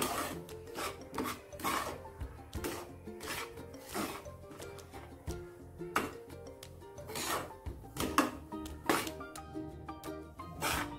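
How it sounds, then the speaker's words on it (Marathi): Semolina dry-roasts in a pan for ladoos, a close scraping and rasping of a spatula stirring the grains with frequent irregular strokes and small clinks, with no talk. "तर भाजून घेऊ आता रवा आपण।"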